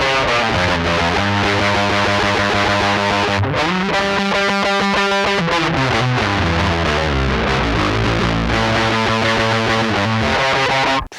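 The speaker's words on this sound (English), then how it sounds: "I loved how that distortion pedal really covered it up like a band-aid" A Fender Mike Kerr Signature bass played through a distortion pedal churns out thick, fuzzy, sustained riffs that stay loud and dense throughout, with low notes shifting under a gritty, saturated top and no voices.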